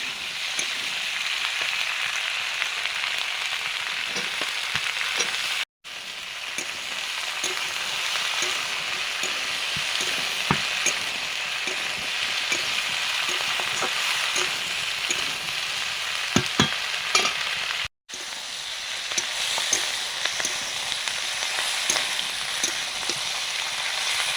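Onion stalks frying in a pan while being stirred, a continuous hiss and sizzle with scraping stir sounds and two brief cuts, no talking.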